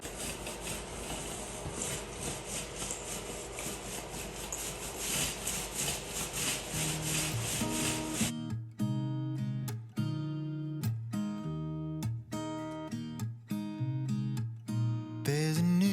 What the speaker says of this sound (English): I cut in on the floor with the garage floor epoxy, and Robert is rolling that out now